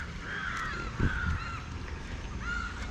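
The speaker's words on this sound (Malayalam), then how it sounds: "ഒരു കാക്ക ഇതിനകത്തിറങ്ങി മീൻ പിടിക്കുന്നുണ്ട്" A crow at a temple pond caws a few times at moderate distance, harsh calls spaced out over steady outdoor background noise.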